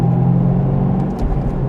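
A McLaren 720S supercar rumbles past at a car meet, its engine a loud, steady low drone that swells briefly before fading slightly, with no talk over it.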